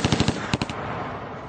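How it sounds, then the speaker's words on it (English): Rapid machine gun bursts fired from the backseat of a moving car on an East Harlem street in New York during a gangster shooting: two loud, clustered volleys of close shots, then a fading reverberant tail. "Cole sprays the street with gunfire, hitting a number of people"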